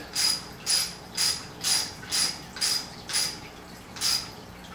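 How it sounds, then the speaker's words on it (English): A ratchet tightening a 1/4 inch lock nut on a Ford F-150 Raptor grille light bar mount, eight evenly spaced clicking strokes in a steady rhythm, close and clear with no voices. "So now I'll put the other 1/4 inch lock nut here on the end, and we will tighten it down"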